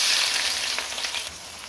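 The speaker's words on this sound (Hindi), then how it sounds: "ऑयल मैंने गरम कर लिया है, अब मैं इसमें प्याज डालूंगी" Onion dropped into hot oil sizzles loudly up close, a sharp burst of frying that settles into a steadier, slightly quieter crackle over under two seconds.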